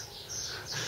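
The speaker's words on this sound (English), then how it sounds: "Sparrows." Sparrows chirp at Bellver Castle, a quick flurry of high-pitched tweets at moderate distance over a steady outdoor background.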